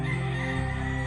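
A rescued former fighting rooster crows in a short, sustained call that sits loud and close over a steady background hum, with no talking.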